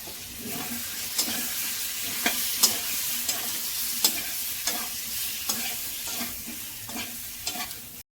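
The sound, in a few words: cauliflower sautéing with ginger paste and turmeric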